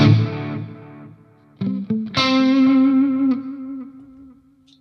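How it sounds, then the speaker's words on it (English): Guitar notes run through a Mooer D7 delay pedal feeding a Mooer R7 studio reverb, with sustained distorted tones that bloom into repeating echoes and a long washy tail, played alone with no talk. "you kind of send the delay to a reverb to make it even more bigger"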